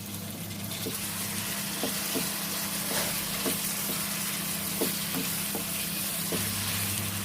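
A steady sizzle of garlic and ginger paste frying in a pan, with occasional scraping stirs and soft clicks of a spoon against the pan.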